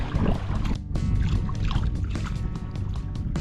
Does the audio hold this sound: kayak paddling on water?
yes